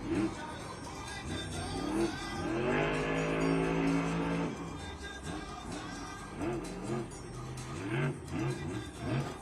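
Monster truck engine revving hard in a stadium during a freestyle event, loud surging roars with a sustained high rev in the middle, then choppier bursts as the truck spins, with faint crowd and commentary underneath.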